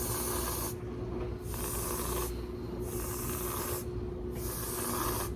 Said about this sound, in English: you just need some spray whipped cream